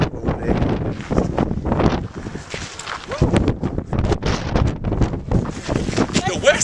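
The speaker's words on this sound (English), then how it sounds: "Man, it is windy as shit out here." Strong wind at the Grand Canyon roars and buffets the microphone in constant, uneven gusts, loud and close, with muffled voices and movement underneath.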